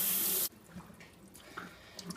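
Cold tap water runs onto pasta in a strainer for about half a second, then cuts off, followed by faint clinks and quiet handling.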